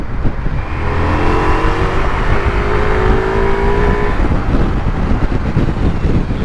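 Ducati Multistrada V4 motorcycle accelerating hard on the throttle, its engine note rising and climbing in pitch over steady wind rush, loud and close for several seconds with no talk.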